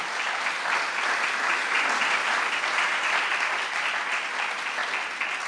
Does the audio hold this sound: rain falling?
no